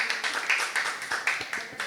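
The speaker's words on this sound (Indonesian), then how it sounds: "Tepuk tangan dong." Audience applause at a live podcast, a short burst of brisk, fairly close hand clapping that stays even throughout.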